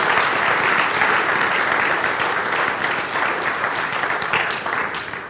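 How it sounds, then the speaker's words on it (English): A youth ministry audience gives a sustained round of applause, dense and loud clapping that holds steady for several seconds before easing slightly at the end. "Can we give a hand of applause to these guys?"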